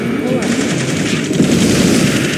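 Dense, continuous automatic gunfire from an Ace Combat 7 combat mission near a space elevator, a steady loud rattle of rapid shots filling the whole stretch with no pause.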